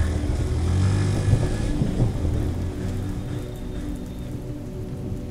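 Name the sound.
rain falling, sound effect in narrated ghost story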